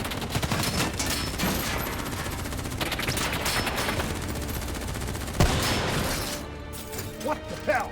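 Sustained gunfire from a Call of Duty Black Ops 3 cutscene, bursts of rapid shots and a sharp crash near the middle over a dense, loud battle mix, with voices shouting in between.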